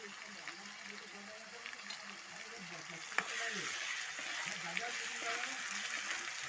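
Mushroom bhaji with tomatoes and spice masala simmering in a pan, a soft continuous sizzle and gentle bubbling, fairly quiet, with a couple of faint clicks and a voice talking in the background.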